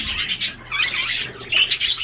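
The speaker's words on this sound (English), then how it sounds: "There's a pigeon." A pigeon at a zoo gives a few scratchy squawking calls, fairly close, over soft outdoor background noise with no talk.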